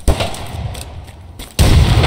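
A grenade blast in Escape from Tarkov: a loud, sudden broadband explosion near the end, preceded by an earlier sharp report and low rumbling ambience.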